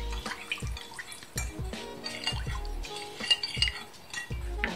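Spoon clinking and tapping against a bowl while stirring a soy sauce, sesame oil and corn syrup mixture, a quick irregular series of close, quiet clinks.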